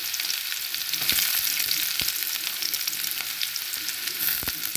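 Shallots fry in hot oil for a raw mango pachadi, giving a steady bright sizzle with occasional pops and light stirring clicks and no talking.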